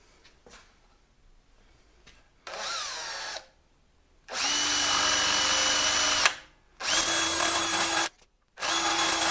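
A power drill cuts a hole in the wooden edge of a sailing Spindrift 10 nesting dinghy, whining in four loud bursts of rising length with quiet gaps between, close up and with no voices.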